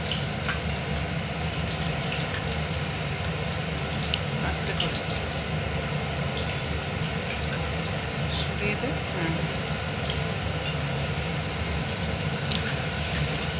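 Lentil vada fritters sizzle steadily in hot oil as they are turned with a large spoon, a constant close crackling hiss under brief spoken instructions in a home kitchen.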